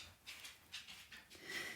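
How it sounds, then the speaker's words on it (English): A dog pants softly in a quiet craft room, quick rhythmic breaths in short bursts, faint and fairly close, with no talking. "So I might get interrupted by a dog."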